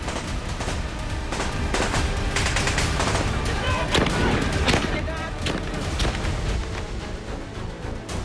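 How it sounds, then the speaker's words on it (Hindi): Gunfire from soldiers firing on unarmed villagers in Balochistan villages: dense, continuous crackling volleys with heavier booming shots, loud and sustained, with a murky background of indistinct noise. "देखिए कैसे पाकिस्तान की सेना बलूचिस्तान के गांवों पर धावा बोलती है और निहत्थे लोगों पर ताबड़तोड़ गोलियां चलाते हुए"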